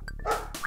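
A dog gives a quick pair of short barks, close and clear, lasting well under a second with no voices.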